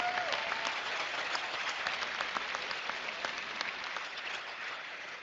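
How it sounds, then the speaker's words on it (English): An audience at a 2015 high school graduation ceremony gives a round of applause. Steady, sustained clapping from a large crowd fills the whole stretch, with no talking over it. "Please give them a round of applause."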